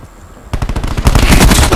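Gunfire in the Call of Duty Black Ops 4 multiplayer beta, a Team Deathmatch match. After a quiet half second, loud rapid automatic bursts of shots crackle close up and continue without letup.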